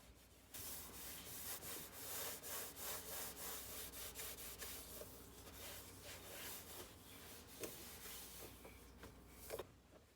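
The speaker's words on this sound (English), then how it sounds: "I'll go ahead and start scrubbing." A stove top is scrubbed after being sprayed with Scrubbing Bubbles cleaner, producing repeated close rubbing strokes in a brisk back-and-forth rhythm, fairly quiet and with no talk.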